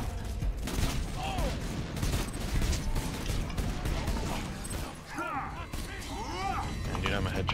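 Rapid bursts of weapon gunfire from the video game Borderlands 2, a dense, continuous barrage with crashes and mechanical clatter, mixed with voices talking over it.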